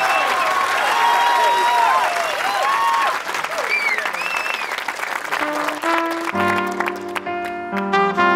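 Lively audience applause with whistles and cheers at a televised jazz concert fills the hall, then a band starts up about halfway through and plays on as the clapping fades beneath it.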